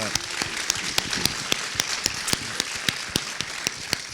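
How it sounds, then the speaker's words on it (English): Steady applause from a panel discussion audience, a dense even patter of many hands with sharper individual claps standing out, moderately loud and continuous throughout. "a round of applause for"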